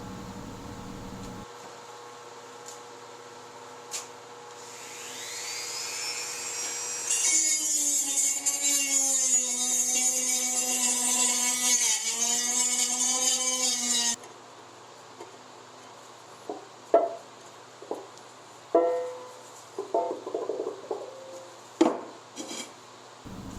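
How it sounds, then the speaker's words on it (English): A Dremel rotary tool whines steadily at high speed for several seconds while deburring a drilled hole in a stainless steel homebrew kettle, its pitch wavering slightly under load, then stops, followed by scattered clicks and handling knocks. "Now I'll use my Dremel tool to further clean any burrs or pointy spots or any place where cracks can form"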